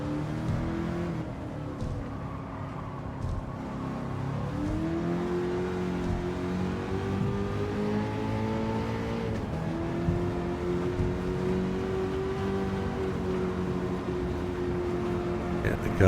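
A Nissan Silvia S13 race car with an engine swap in Gran Turismo 7 roars through a Tokyo circuit, its steady engine note climbing and dipping with shifts and throttle, while someone talks over it.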